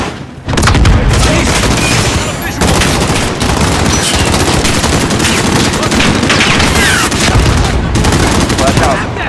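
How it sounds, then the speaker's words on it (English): Call of Duty Modern Warfare firefight during an inbound missile strike: a loud, continuous wall of booming blasts and rapid automatic gunfire, dense and close, with shouted voices mixed in. "missile inbound"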